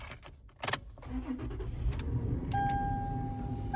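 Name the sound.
Toyota 4Runner engine starting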